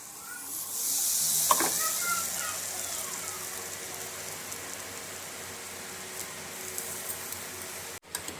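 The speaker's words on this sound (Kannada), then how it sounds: "ಒಂದೊಂದೇ ಬದನೆಕಾಯಿನ ಈ ಥರ ರವದಲ್ಲಿ ಮತ್ತು ಅಕ್ಕಿ ಹಿಟ್ಟಲ್ಲಿ ಡಿಪ್ ಮಾಡಿ ಈ ಥರ ಫ್ರೈ ಮಾಡೋಕ್ಕೆ ಹಾಕಬೇಕು" Eggplant slices coated in semolina and rice flour frying in hot oil, a loud, steady sizzle and hiss that flares as the pieces go in, then settles into a continuous crackle before stopping abruptly.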